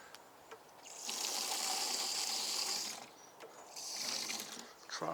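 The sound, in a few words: water poured in to top up a container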